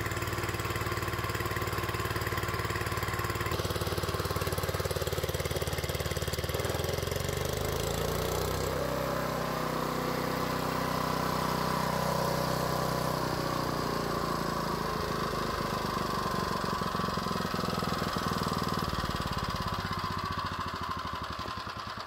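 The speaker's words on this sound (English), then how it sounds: "the gas engine is bogging down when we hit about 800" A gas engine drives a treadmill motor used as a DC generator, running loud and steady for the whole stretch with a continuous mid-range drone, then laboring and bogging down under load.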